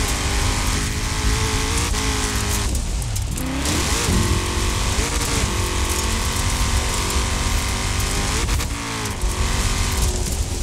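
Rear-wheel-drive car driven in Forza Horizon 4 at an off-road meet, its engine droning loudly and steadily with brief pitch drops at gear changes, alone without talk.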